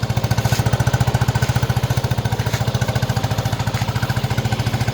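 A Yamaha NMAX scooter engine fitted with an RS8 exhaust pipe idling close by, giving a fast, even, throbbing putter with a steady pulse throughout and no voices.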